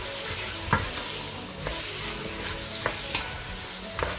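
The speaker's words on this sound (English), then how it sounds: "So first I will just mix it." Tomato paste thinned with a little water being stirred together with potatoes and small meatballs in a frying pan, a steady sizzle under repeated scraping and clinking strokes of the utensil, close and moderately loud, with no talking.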